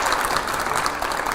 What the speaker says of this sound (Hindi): दोनों बहुत अच्छे, जोरदार तालियां हो जाए जरा।